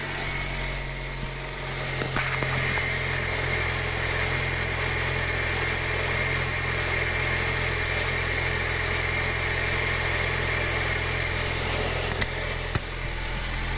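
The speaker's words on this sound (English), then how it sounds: "You hear a little ticking only, but that might be the exhaust leak" A car engine idles steadily with a low, even hum and a faint ticking layered over it, a sign of a small exhaust leak. The sound holds constant throughout.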